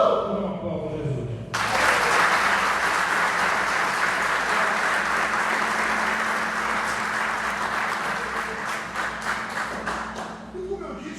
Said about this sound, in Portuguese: Uma aplauso a Jesus.